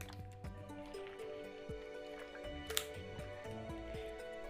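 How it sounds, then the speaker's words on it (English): Someone takes a sip of water, a few soft wet slurps and small liquid drips up close over a faint background of tonal game music. "I'm just gonna take a sip of water because my throat's a little dry"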